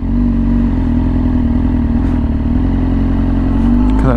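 A Yamaha R6 sport motorcycle fitted with a very loud aftermarket exhaust holds a deep, steady droning rumble up close, with a slight rise in revs near the end.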